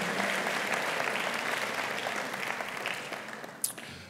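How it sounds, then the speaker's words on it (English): An audience at a university forum applauds the organist, a steady, moderately loud wash of clapping that gradually thins out toward the end. "David Francis Oliver, another round of applause, our organist"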